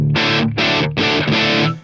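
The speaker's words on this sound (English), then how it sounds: "It's definitely breaking up. There's some distortion there, really good." Distorted electric guitar in a pop punk tone with the gain set just below 1 o'clock, strumming four loud, sustained chord bursts separated by brief stops, played alone.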